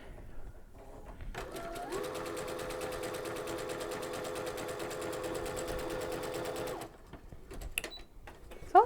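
A sewing machine runs a tight satin-stitch zigzag with metallic thread and a metallic needle, a fast, even mechanical whir held for about five seconds after a short start, then stops with a few small clicks.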